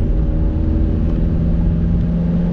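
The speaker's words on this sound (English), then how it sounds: "Leaving it in third gear just to hear the intake noise really." Mazda MX5 engine held in third gear on a bumpy single-track lane, a loud, steady low intake drone with rumbling road noise and no speech.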